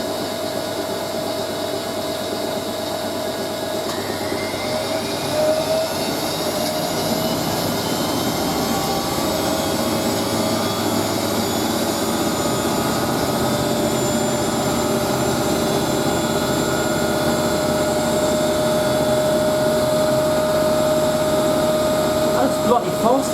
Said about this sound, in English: That's bloody fast for 800, that does.